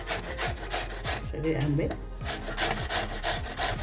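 Raw green mango rubbed against a hand grater in short, repeated rasping strokes, close and fairly loud, while someone speaks briefly partway through.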